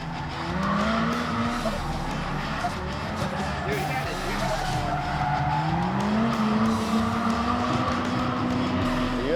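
A drift car skids under power, tires squealing in long sustained wails that bend in pitch over a loud engine roar, with a voice talking over the noise throughout.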